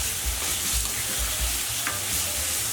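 Meat browning in a pan for Chinese special fried rice, a continuous close sizzle with faint low rumbling of the pan being moved, no voices.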